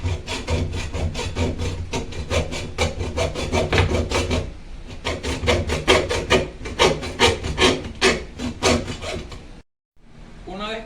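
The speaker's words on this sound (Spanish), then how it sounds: "voy a comenzar cortando el tubo de cobre a una medida de 30 centímetros con la cegueta" A hacksaw cuts through copper tube with steady, rhythmic back-and-forth rasping strokes, close and loud, pausing briefly midway and stopping near the end.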